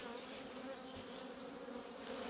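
Honeybees buzzing around the front of a hive, a dense continuous hum from many insects, fairly close and steady with no voices.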